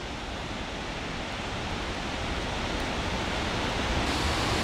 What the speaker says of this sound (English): Just the power and energy in that water. It literally looks like three little separate waterfalls.